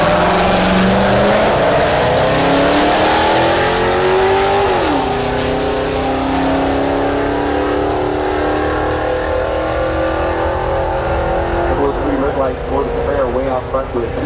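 Drag racing run at Orlando Speed World with a four-cylinder diesel four-wheel-drive truck and a 5.0 Mustang: loud, continuous engine roar with steadily shifting pitch as the vehicles accelerate, and a commentator's voice talking over it.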